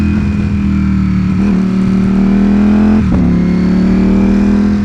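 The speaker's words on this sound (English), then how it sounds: "Every time I shift, it pops, it bangs." A Ducati Streetfighter V4 motorcycle rides steadily with a loud, droning engine, the exhaust note dipping and popping briefly at two gear shifts while the bike keeps moving.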